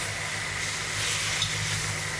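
Steady sizzling of teriyaki sauce sticking and catching in a very hot pan, a continuous broadband hiss with faint stirring underneath, close and even throughout.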